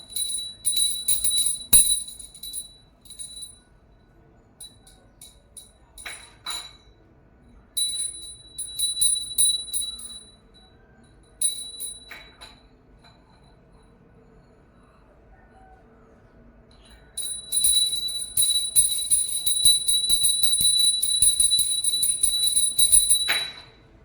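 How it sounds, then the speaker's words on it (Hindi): A small prayer bell rings in intermittent bursts of bright, jangling tones, with quiet stretches between and a long continuous ringing near the end. "घंटी बजाओ"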